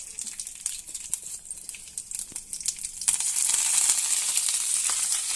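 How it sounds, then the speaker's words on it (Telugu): Tempering spices popping and sizzling in hot oil for a South Indian dish with idli and rice, sharp crackles at first, then swelling into a loud, steady frying hiss, no talking. "పోపు దినుసుల్ని యాడ్ చేసుకున్నాక ఇవి బాగా ఎగుతాయి కదా"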